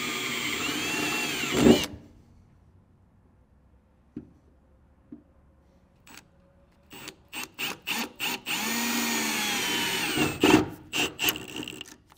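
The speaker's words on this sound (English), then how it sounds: "we'll move our rail out of the way here and get the holes drilled" A power drill bores holes into a 2024 Chevrolet truck frame for a B&W 5th wheel hitch base rail, whining in short and longer bursts that start, stop and restart, loud and close, with quiet gaps between.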